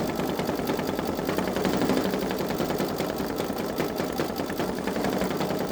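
A Babylock Solaris 3 embroidery machine stitches in a fast, steady mechanical chatter, close and continuous throughout with no talking.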